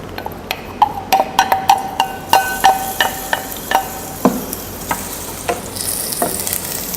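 Garlic frying in hot cooking oil sizzles steadily while a utensil taps and scrapes the pan in repeated close clinks, loud and near, with no speech.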